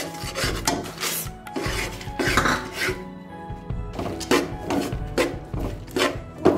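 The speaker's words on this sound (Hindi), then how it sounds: "इसमें अब हम मूंगफलियाँ डाल देंगे जो हमने ड्राई रोस्ट करके" Dry-roasted peanuts are worked into set sugar syrup for chikki, giving repeated gritty, rasping scrapes of a spoon against the pan in uneven bursts with short pauses, close up and with no speech.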